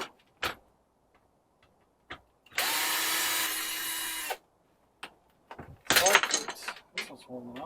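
Power drill backing out screws to remove a front cover during scrap cleaning in a workshop, with a steady whine lasting a couple of seconds, then a shorter rougher burst, among clicks and handling knocks.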